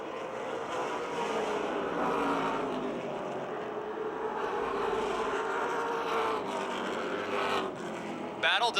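Race cars roar around the Motordrome Speedway during a feature race, a dense continuous engine drone with pitch sweeps as cars pass, heard under an announcer's commentary over the public address.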